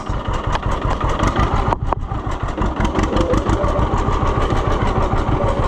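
A John Deere G or Oliver 1365 tractor engine runs steadily and loud close by, its low, pulsing exhaust beat thudding in an even rapid rhythm throughout with a brief dip midway.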